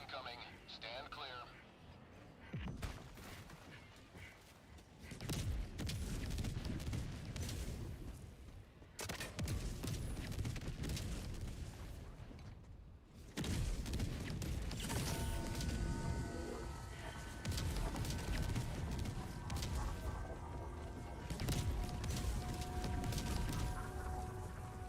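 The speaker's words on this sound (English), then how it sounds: "Requesting orbital. Orbital barrage incoming." Orbital barrage explosions in Helldivers 2 land in rolling succession, heavy booming blasts and dense rumbling fire building in intensity, with a voice talking over the game audio.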